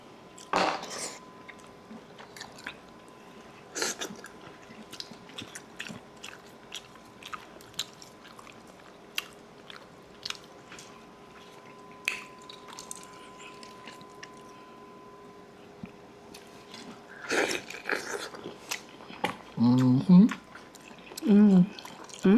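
Someone eats food in garlic butter sauce up close, with scattered wet bites, chewing and squishy mouth sounds over a quiet low hum, and a burst of slurping and heavier chewing near the end.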